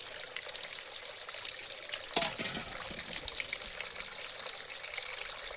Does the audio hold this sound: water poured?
yes